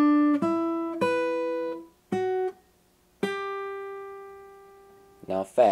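Acoustic guitar plays the first half of a section of a piece: a few slow, ringing plucked notes and chords with long sustain and gaps between them, close and clear, ending with a brief rustling touch of the strings.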